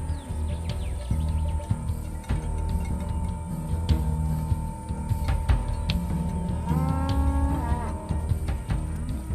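Maasai cattle at dusk near their villages in East Africa low and call as the herds gather, with deep moos mixed with sharp knocks, rustling and bird calls, all fairly close and busy.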